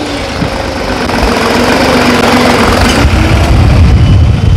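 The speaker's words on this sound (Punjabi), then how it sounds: "ਆਪਾਂ ਦੂਜੇ ਹਾਈ ਚ ਵੀ ਟਰੈਕਟਰ ਦੀ ਪਰਫਾਰਮੈਂਸ ਵਿਖਾਲਦੇ ਆ" A New Holland 3630 Super tractor with a turbo-modified diesel engine drives in second gear, its steady low rumble and knocking loud and close, running continuously with no talk.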